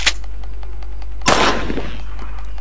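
A single loud shotgun blast in the video game Granny Chapter Two, a sharp crack with a ringing metallic tail over a steady low hum, preceded by a faint click.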